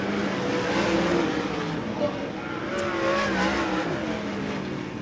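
Dirt late model race cars at Arizona Speedway roar in a steady, loud engine drone as they drag race back to the finish line, with a thick crowd-and-track wash and no clear voices.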